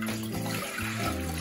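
Water poured from a cup into a cooking pot while starting rice pudding, a steady splashing gush with a rising, filling tone, near and moderately loud, no talking.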